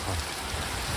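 Brief burst of steady rain falling on a roadside in Colombia, a dense, even hiss with low rumble underneath, no voices.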